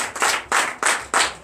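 A congregation at a Sunday church service in Comè, Benin, claps together in a quick, steady rhythm, with sharp bursts of many hands landing in unison, close and lively, and no voices over them.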